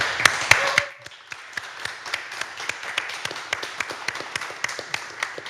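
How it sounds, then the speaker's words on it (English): Scattered audience applause at a science café event, a few loud claps up front fading into thin, uneven sporadic clapping from a small crowd. "give a very, very loud round of applause to all of our innovators"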